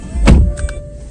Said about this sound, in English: press the stop start button, the car will turn on